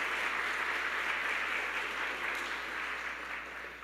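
A church congregation claps strongly together, a dense, sustained wash of applause that fades slightly toward the end.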